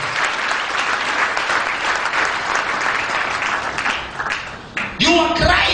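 A church congregation claps for Jesus in sustained, dense applause that continues steadily, with a voice breaking in near the end over the clapping.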